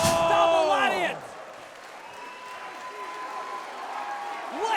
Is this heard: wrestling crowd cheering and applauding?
yes